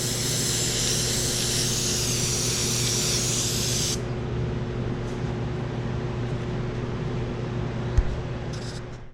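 An airbrush sprays yellow paint in a steady close hiss for about four seconds, then stops, leaving a low hum and a faint click.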